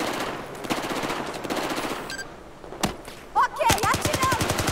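Gunfire in the Battlefield 4 video game: rapid automatic bursts and single sharp shots, loud and close, with some brief voice activity in the mix.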